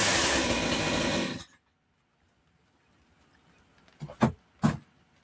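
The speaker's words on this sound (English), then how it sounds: "That's a chainsaw." A chainsaw roars loudly at close range for over a second, then cuts off abruptly; two brief knocking sounds follow in the quiet.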